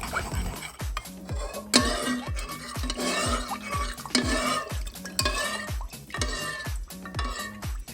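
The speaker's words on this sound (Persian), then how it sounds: "در این مرحله مواد رو با هم دیگه خوب هم میزنیم تا کاملا یک دست بشه" A spoon scrapes and clinks around a pot as stuffed pepper filling is stirred, repeated rhythmic strokes knocking against the sides, close and steady without any talk.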